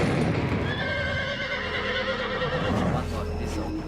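A horse at a rescue and rehabilitation centre whinnies loudly and repeatedly, with hooves clip-clopping on hard ground beneath the calls and steady background noise throughout.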